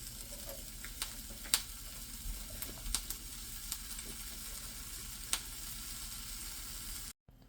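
Vermicelli (semai) bubbles in milk in a pot, a soft continuous simmer with scattered light pops and clicks close by, ending in a sudden cut to near silence.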